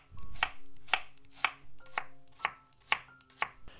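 A knife slicing a radish thinly on a cutting board, seven crisp evenly spaced chops about half a second apart, close and clear with no talk.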